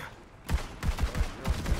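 A cannon fires in a video game in a fast run of repeated heavy thumps, about six low booming blasts in quick succession over a dense noisy bed.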